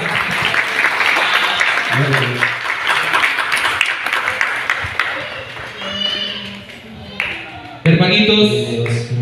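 Church congregation clapping during worship, a steady patter that carries on under someone speaking loudly and the sound of the crowd.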